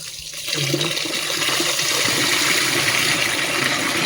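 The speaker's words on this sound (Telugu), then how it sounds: "రైస్ని అయితే మంచిగా కడుక్కోవాలండి" Water runs and splashes steadily as rice is rinsed for a vegetable dum biryani in a home kitchen, a loud continuous wash after a brief quieter start.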